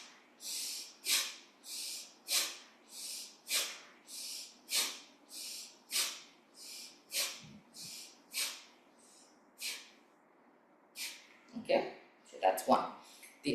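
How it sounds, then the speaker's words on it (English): During a yoga shoulder shrug exercise, a person breathes hard and rhythmically, forceful nasal exhales repeating about every second, close and clear, turning into a few quicker ragged breaths at the end. "One is inhale up, exhale down forcefully."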